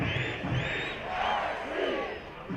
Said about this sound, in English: The crowd is rocking here at Keyworth.